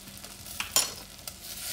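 A spoon stirs salted Indian food in a pan, brief scraping clinks over a soft steady sizzle, close and fairly quiet, with a sharper clatter near the middle.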